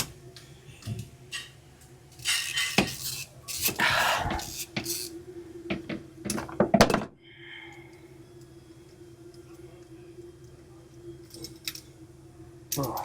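Tools work on spark plugs of a MerCruiser 383 marine engine, with clicking ratchet ticks and metallic clinks in short bursts, some louder scraping handling mid-way, then a quiet steady hum.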